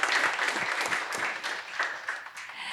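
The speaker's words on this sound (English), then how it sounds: "Let's give him a round of applause." Audience applause after a startup pitch session at an innovation forum, a room of people clapping steadily for a few seconds at moderate volume.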